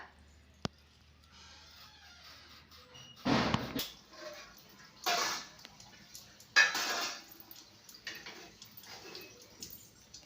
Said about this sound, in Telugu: కొంచెం మందంగానే చాక్తో కోసిన వీటిని